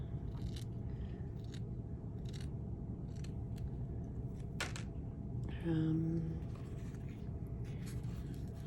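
Paper is cut in half with scissors for a spring floral journal, heard as a few quiet, crisp snips spread over a steady low background hum, with no voice over them.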